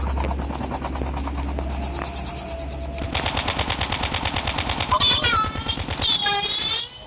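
Rapid gunfire from a video game, fired at balls: after a low steady hum, a fast run of evenly spaced loud shots starts about three seconds in, followed by bright ringing impacts near the end.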